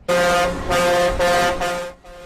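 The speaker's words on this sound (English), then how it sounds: "The noise and honking permeated my existence." Loud, sustained truck air horns blaring during a trucker convoy protest, with several long overlapping honks in succession, close and dominant with no speech.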